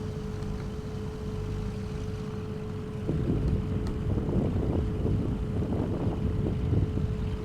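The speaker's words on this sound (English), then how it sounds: "Bit windy out there today. I can hear the wind." In a flight video game, wind rushes outside a small plane, a steady low roar that grows louder and more gusty partway through, with no talking.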